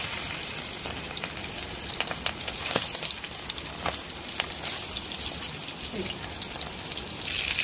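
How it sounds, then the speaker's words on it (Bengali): Fish frying in hot oil for a kochur loti dish, a dense crackling sizzle with bubbling spatters, steady and close, with faint background voices. "এখন এই মাছ ভাজা দেবো।"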